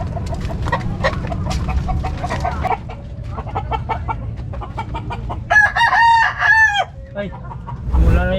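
A gamecock rooster crows loudly nearby, several harsh, rising calls with clucking between them, and someone talks briefly under the bird.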